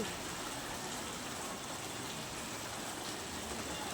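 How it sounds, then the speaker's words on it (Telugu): Steady, dense hiss of heavy rain pouring down without pause in Banaganapalli, a uniform wash of sound with no voices. "వర్షం మొదలై ప్రస్తుతం మంచి వర్షం కురుస్తూ ఉంది"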